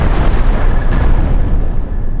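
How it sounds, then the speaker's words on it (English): A spaceship blows up in the space combat game Cosmoteer with a loud, sustained rumbling explosion that roars on for a couple of seconds, then thins and fades slightly at the end. "Get ready for the explosion. The inevitable explosion."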